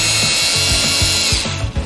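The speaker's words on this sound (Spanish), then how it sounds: "Las bisagras viejas, fuera." A power drill backs old hinges out of a wooden window frame, whirring loudly and continuously with short rhythmic catches and surges as the screws turn, close up with no talk.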